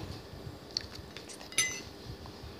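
Metal utensils clink lightly against a bowl while an egg is mixed into extreme Korean spicy ramen: a few faint, sparse clicks with one sharper chime near the middle, all over quiet room noise.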